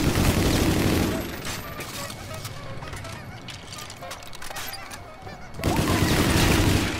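Death Machine minigun fire in a Call of Duty Zombies game, a dense, loud, continuous burst that drops back to quieter game sounds and then resumes at full volume.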